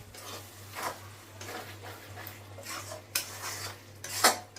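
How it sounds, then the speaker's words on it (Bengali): Homemade garam masala of cardamom, clove and cinnamon is stirred into mutton keema in a pan, soft scraping strokes and a couple of sharp spoon-on-pan clinks over a faint sizzle and low hum. "পুরো গরম মশলাটাকে মিশিয়ে নেব।"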